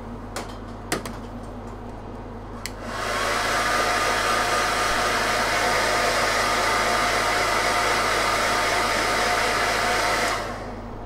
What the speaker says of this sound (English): hit this with hairdryer.